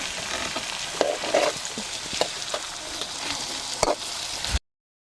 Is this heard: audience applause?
no